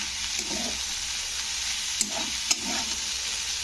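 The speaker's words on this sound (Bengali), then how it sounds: "তো রাইসগুলো দিয়ে এবারে পুরো মশলাটাকে রাইসের মধ্যে মাখিয়ে নিতে হবে।" Rice tossed and stirred into a sizzling coriander spice mix in a pan for green rice: steady frying hiss throughout, with a few sharp scraping clicks and soft spoon-stirring thumps, close and clear, no talking.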